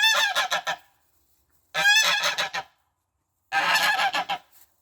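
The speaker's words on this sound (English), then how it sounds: "And there's a very loud goose." An Icelandic sheep homestead goose honks loudly in three separate bursts of rapid, harsh calls, each lasting about a second with short silent gaps between, close to the microphone and with no voices.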